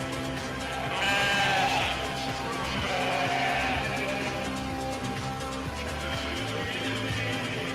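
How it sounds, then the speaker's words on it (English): Sheep bleating repeatedly over a constant murmur of farm background noise, with one louder, closer bleat early on and fainter calls that follow. "It's sheep noises."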